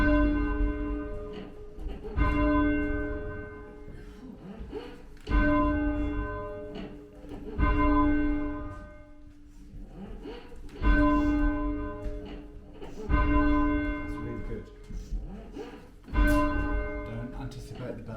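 A church bell rung by pulling its rope strikes about seven times at slow, even intervals, each loud clang ringing out and decaying between strokes, with voices of people talking at times under the ringing.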